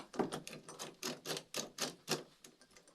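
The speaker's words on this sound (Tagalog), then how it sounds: "tatry natin buksan tong pintuan na to na nakalak gamit itong gunting na to" Scissors worked in the lock of a locked door make quiet, close, evenly spaced metallic clicks, about four a second, with no voices.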